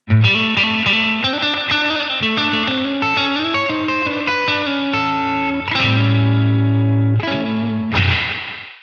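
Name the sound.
guitar through NUX Atlantic spring reverb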